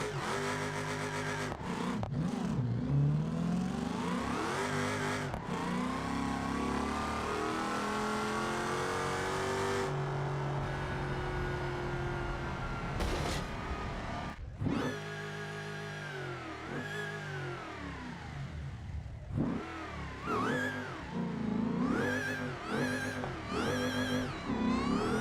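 Modern American muscle car engine revving and accelerating through repeated gear changes, a loud, close, rising roar that drops and climbs again with brief lifts between pulls.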